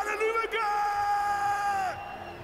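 A crowd in a sports hall at a halftime show of a futsal cup cheers loudly, with one sustained yell or whoop rising over the general noise before it drops away.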